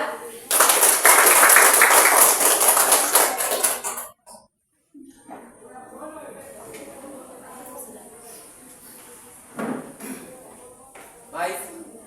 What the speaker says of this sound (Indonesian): Oke, kita tepuk tangan dulu di kelompok 2.